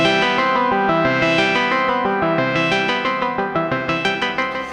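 Synthstrom Deluge synth patch with a slight LFO sweeping the filter cutoff, a dense harmonic tone in a live looping setup with chorus and echo effects, the filter opening and closing gently, then repeated plucked notes decaying in even pulses toward the end.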